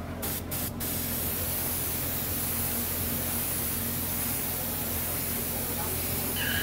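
A paint spray gun laying down a final coat, producing a continuous close, even hiss that holds steady throughout, preceded by a few short bursts at the start.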